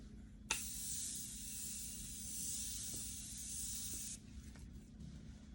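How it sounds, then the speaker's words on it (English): A facial mist spray bottle sprays onto the face, releasing one long, continuous fine mist hiss lasting about four seconds, close and clear, with no talking. "So I'm going to spray my face first"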